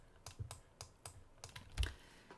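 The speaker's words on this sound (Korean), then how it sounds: "키보드의 스페이스 바를 누르고 계시잖아요" Keys on a computer keyboard, including the space bar, give a handful of light, irregular clicks close by, with one heavier thump near the end, in a quiet room without talk.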